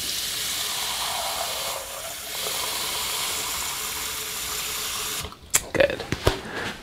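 Hot water runs from a tap into a cup for pizza dough, a steady hissing stream for about five seconds that then stops, leaving a few clinks and splashes.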